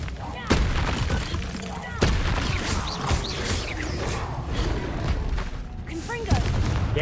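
Confringo blasting spells in Hogwarts Legacy go off as repeated sharp explosive bangs, several distinct impacts spaced a second or two apart amid combat clatter and a talking voice.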